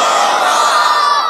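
A large crowd at an outdoor Islamic religious gathering roars back in unison in answer to a takbir call, a loud sustained mass shout lasting about a second.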